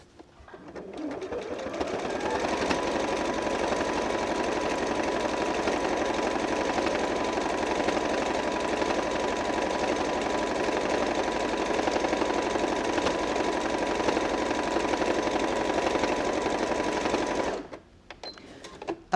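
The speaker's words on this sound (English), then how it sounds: "that is easily stitching through what is now 3 layers, because I've double hemmed that, of stiffened fabric" A Janome QDC5270 sewing machine stitches steadily through three layers of double-hemmed stiffened fabric, a close, even mechanical whirr running without a break for about fifteen seconds before stopping abruptly.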